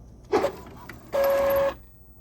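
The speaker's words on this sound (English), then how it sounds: "So I did a test print and it is printing." A small printer runs a test print, a short mechanical whir and click followed by a steady high feed sound lasting about half a second, close and fairly quiet.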